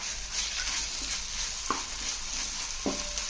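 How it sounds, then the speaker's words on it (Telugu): Ginger garlic paste frying in a pan for chicken curry, a steady close sizzle with a couple of brief scraping stirs and no talking. "దీన్ని కూడా బాగా వేగనిద్దాం చూడండి ఇప్పుడు చక్కగా వేగిపోయింది కదా అల్లం వెల్లుల్లి పేస్ట్"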